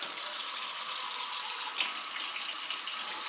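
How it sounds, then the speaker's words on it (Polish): Water pours steadily in a continuous hissing stream, close and even, with no other sounds. "Więc lejemy wodę"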